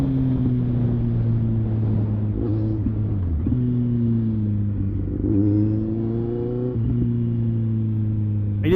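A large motorcycle engine drones steadily nearby with a deep, throaty hum, shifting pitch a few times as it revs and changes gear, loud and continuous with no talking.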